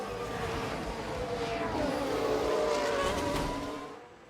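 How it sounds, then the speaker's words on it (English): A Formula 1 race car in F1 Manager 22 skids and crashes in a serious collision during a rainy 2022 race, a sustained loud engine roar with tire noise that swells and then fades out toward the end. "Goodness me, that is a serious collision."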